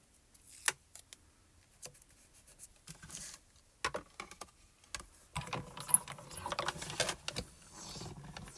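A hand-cranked die cutting machine runs an etched ice skate die through its rollers, starting with sparse clicks and taps and building into a denser, louder grinding crunch toward the end.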